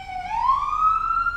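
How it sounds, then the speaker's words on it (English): An ambulance siren wails outside a window in Brooklyn, a loud rising electronic tone sweeping up and holding, heard through the glass with low street rumble beneath. "But ambulances are quite obnoxious."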